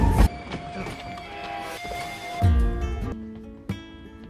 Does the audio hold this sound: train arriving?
yes